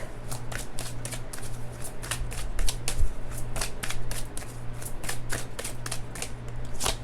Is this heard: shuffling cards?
yes